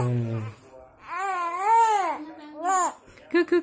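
A baby cries in wavering, drawn-out wails close by, with short breaks between cries and a brief fussy sound at the end.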